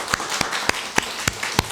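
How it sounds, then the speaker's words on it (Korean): Congregation in a church clapping in unison, a slow, regular beat of about seven sharp claps close by, with no talk over it. "박수 한번 해야 돼"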